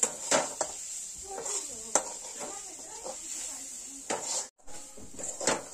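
A spoon scrapes and taps in a pan while a wild vegetable bhaji with turmeric and chili is mixed, giving a few close metallic clinks and stirring scrapes under a faint steady hiss, with a voice talking.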